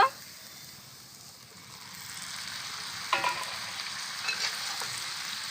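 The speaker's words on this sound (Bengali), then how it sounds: "মশলার সাথে ভালো করে নেড়ে নেব" Fried potatoes being stirred with spice paste in a pan for aloo posto, a soft sizzle that builds gradually, with a few sharp spoon scrapes and clinks partway through.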